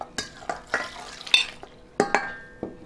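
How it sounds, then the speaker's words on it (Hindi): Spoon scraping and stirring as water is mixed into chickpea sattu in a pot, several distinct clinks and scrapes spaced irregularly, close by, with no talking. "अब इसके अंदर पानी डालती हूँ मैं"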